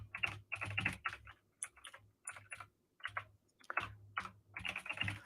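Quick bursts of clicking keystrokes on a computer keyboard, close and fairly quiet, typing in short irregular runs with brief pauses.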